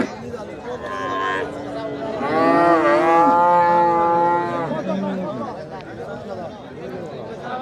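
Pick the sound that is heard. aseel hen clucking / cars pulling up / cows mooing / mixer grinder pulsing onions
cows mooing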